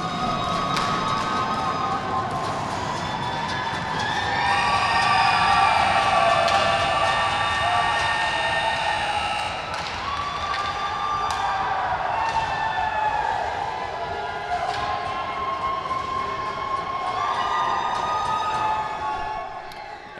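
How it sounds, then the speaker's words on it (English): A hockey crowd at a junior C semi-final game in Western Valley arena cheers and roars at length, with horn-like tones and whistles ringing over the steady crowd noise. "you can hear the crowd and the support from the folks at Western Valley"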